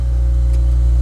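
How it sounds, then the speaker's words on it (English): A Honda Accord Euro R CL7 with a K20A engine starts and settles into a steady, loud, close idle, with a continuous low hum throughout. "that familiar K20A"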